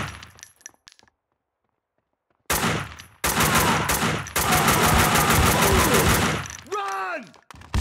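Gunfire in Max Payne 2: scattered shots, then a silent gap, then sustained rapid automatic bursts with metallic casings tinkling, loud and close, ending in ringing pings.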